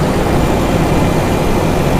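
Car engine running while its idle RPM is turned down during carburetor adjustment for a misfiring engine, heard as a loud, steady, close low rumble with no talk.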